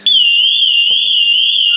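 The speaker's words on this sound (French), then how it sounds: "j'ai oublié d'enlever l'alarme, tout simplement" A vehicle alarm, seemingly on a truck or motorhome at a rally, blares as a loud, close, continuous high-pitched warbling tone from start to end, with a faint knock partway through.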